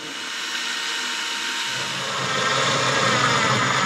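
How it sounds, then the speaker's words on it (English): A power driver whirs steadily as screws are driven into plastic fittings inside a van, one continuous close motor drone that rises slightly in pitch and strength partway through. "I think I'll screw these in and then I can trim them up later"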